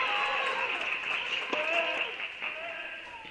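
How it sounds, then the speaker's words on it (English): A large crowd murmurs and chatters steadily throughout at a men's college tennis match, MTSU against Notre Dame, with a few faint claps and voices rising from the stands. "And man, what a crowd here."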